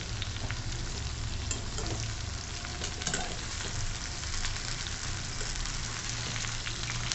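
Sponge gourd sautéing in hot oil gives an even, crackling sizzle close by, with a few faint stirring knocks and no pauses.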